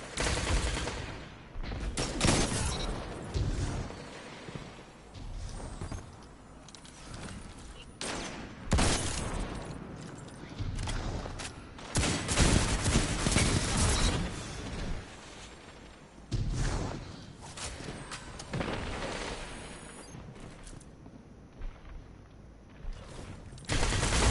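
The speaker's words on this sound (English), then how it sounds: "it's a good submachine gun" Rapid bursts from a submachine gun in a PS4 video game rattle on and off loudly across a long stretch, dense volleys broken by brief lulls and whooshing impacts.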